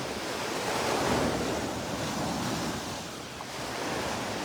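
Surf rolling onto the beach at Delnor-Wiggins, a steady broad wash of breaking waves with wind noise buffeting the microphone, swelling slightly and then easing.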